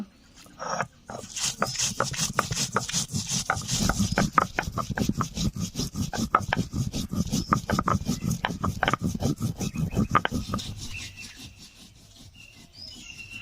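Cumin, coriander and dry chillies being ground into a spice paste: close, rhythmic rubbing and scraping strokes repeat steadily for about ten seconds, then ease off.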